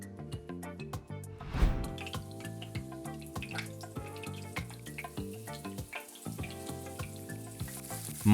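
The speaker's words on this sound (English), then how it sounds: "Roll each mushroom in flour on both sides and then put in a pan." Flour-coated mushrooms fry in a pan with plenty of oil. A faint, crackling sizzle with scattered pops sits beneath louder background music.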